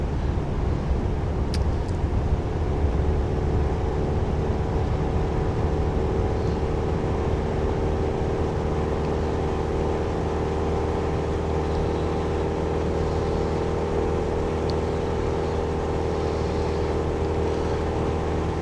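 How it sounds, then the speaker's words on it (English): A steady, loud airplane engine drones in the flight simulator Aerofly FS 2, a constant low hum holding evenly throughout with no voices over it. "I have to talk kind of loud because obviously the airplane's loud."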